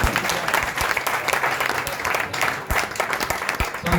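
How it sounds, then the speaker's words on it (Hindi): Applause at a BJP ceremony in Hisar welcoming a newly appointed district president, a dense, loud crowd clapping that carries steadily throughout. "एक बार जोरदार तालियों के साथ"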